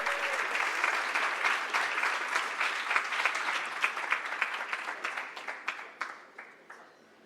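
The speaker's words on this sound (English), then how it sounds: "So let's give Pará Belém a hand of applause" An audience at a closing keynote session in Belém claps together, a full, dense applause that holds steady and then thins into scattered individual claps as it fades out near the end.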